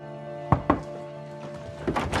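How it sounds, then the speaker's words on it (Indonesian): Two quick knocks on a door in a film scene, fairly muffled and close together, followed by faint shuffling and movement sounds. "terdengar ada suara yang mengetuk-ngetuk pintu"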